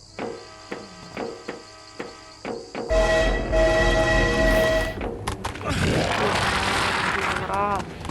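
A video game train rumbles loudly past with a sustained horn-like tone, following a series of rhythmic mechanical knocks, with voices talking over it.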